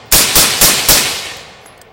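Four sharp gunshots from an automatic gun fire in quick succession close by, each crack trailing off into a fading echo, with no talk during the burst.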